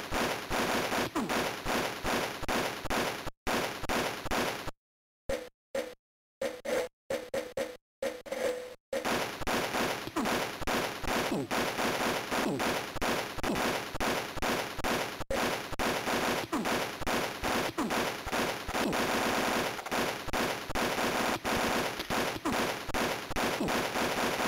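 Auto rifle fire in the Game Boy Color game Army Men, rapid, continuous chiptune bursts of shots broken by brief silent gaps early on, loud and unbroken for most of the stretch with no talk.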